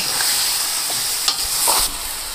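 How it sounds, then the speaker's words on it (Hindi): Three kilos of chicken frying in a pot after tomatoes, cooking until golden brown for restaurant-style white chicken pulao: a steady close sizzle with a few brief stirring scrapes, no voices. "अब इसका कलर चेंज होने तक मैं इसको इतना पकाऊंगी"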